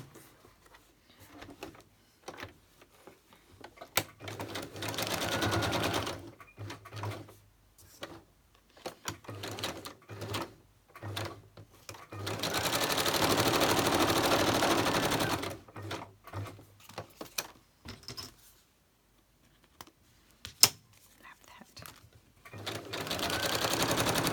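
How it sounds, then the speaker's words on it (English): Sewing machine stitching fabric for a design and technology project, running in several bursts of steady whirring separated by pauses, with the longest run in the middle; near and fairly quiet, with no talk. "And then I'm just going to stitch it."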